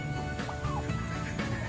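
A few short clucks from a native chicken sound close by over steady background noise and a constant high hum.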